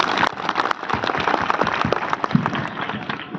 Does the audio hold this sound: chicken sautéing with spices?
no